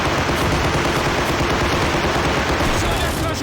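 Dense, rapid gunfire rattles almost nonstop in a 101st Airborne prison-break battle simulation game, layered shots and bursts filling the scene while a voice talks over them.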